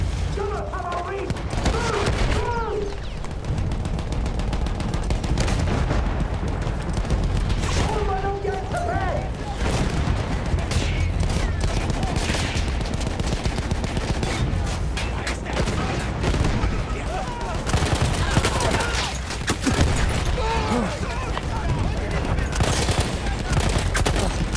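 Rapid bursts of rifle and machine-gun fire crackle and boom continuously in a World War I battle scene from the Battlefield 1 video game, with heavy blasts mixed in and shouting voices over the fighting.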